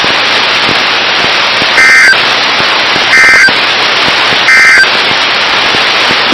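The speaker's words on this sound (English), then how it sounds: "This has been a test of the NOAA radio warning alarm device." A NOAA weather radio warning alarm sounds three times over a static-filled radio broadcast, each loud electronic tone lasting about a third of a second and spaced evenly apart.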